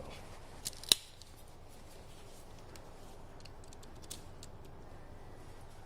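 A kitchen faucet supply pipe being cut during a repipe, heard as a couple of sharp, close snips near the start followed by faint scattered clicks over quiet room background.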